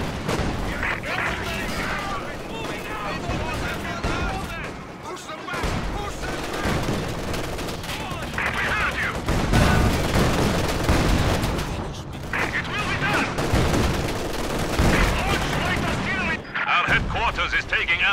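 Sustained battlefield gunfire and artillery booms in the WWII strategy game Company of Heroes 2, a dense loud barrage of rifle and machine-gun fire that swells and dips, with voices calling out over the combat.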